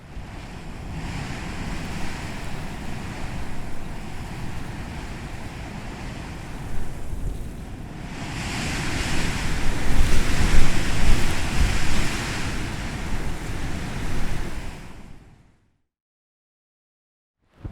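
Wind blowing through heather and tall grass in the Scottish Highlands, a steady broadband rush that swells louder midway and then cuts off, with no voices.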